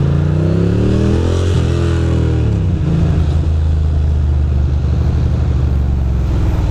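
Heavy road traffic on the Brooklyn Queens Expressway: a continuous loud engine drone with gear changes and a rising, shifting rev, steady and close throughout.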